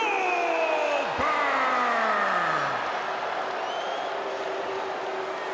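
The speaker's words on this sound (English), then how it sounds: "A booing for Goldberg." A WWE 2K20 wrestling video game arena crowd booing as the wrestler Goldberg appears, a dense sustained wall of crowd noise with a sharp effect sweep near the start, steady and loud.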